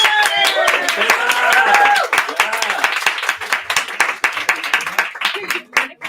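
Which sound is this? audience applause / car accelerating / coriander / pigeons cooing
audience applause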